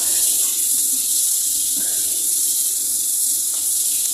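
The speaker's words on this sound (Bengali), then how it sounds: "এবার চিংড়ি মাছটা একটু হালকা ভাজতে হবে বেশি কড়া করে ভাজবো না" Prawns fry lightly in oil with cumin seeds in a pan, giving a steady, bright, continuous hiss that holds level throughout with no talk.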